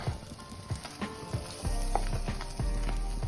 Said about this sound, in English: Now you fold in your omelette.